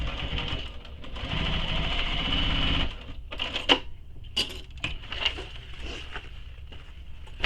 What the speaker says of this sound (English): you can back stitch over the D-ring area just for some extra security